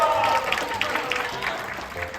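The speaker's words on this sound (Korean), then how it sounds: "큰 박수 보내주십시오, 여러분" Studio audience applause on a classical-music variety show, a moderate burst of clapping with voices talking and laughing over it.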